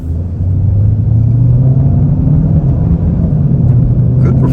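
A 2024 Kia K5 LXS under throttle, its engine droning with a low, rising rumble as the car accelerates hard, loud and close from inside the cabin, with road noise underneath.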